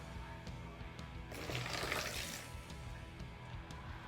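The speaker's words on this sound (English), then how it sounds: "Now I need 1/2 a cup of cold water." Cold water poured into cake batter made from Jiffy mix and eggs, a faint, brief splashing rush that swells for about a second and then fades, with no talking.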